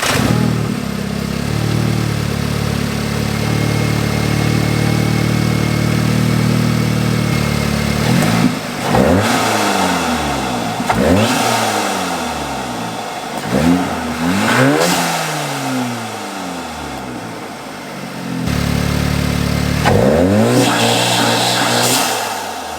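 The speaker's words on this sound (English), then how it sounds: "So we're gonna start up the car and see what it sounds like, give it a couple of revs, and hopefully it's loud" A big-turbo Audi S3 with a new intake idles loudly, then revs hard several times in sharp, rising bursts, each falling back to a rumbling idle. The revs come up close and alone, with no talk.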